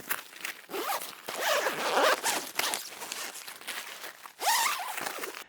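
Zipper on the vestibule of a Pathlow Aither air tent being pulled in several quick bursts, close and loud rasping strokes with short pauses between them.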